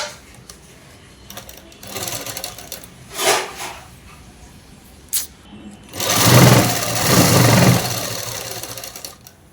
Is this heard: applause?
no